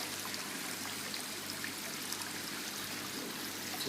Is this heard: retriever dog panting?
no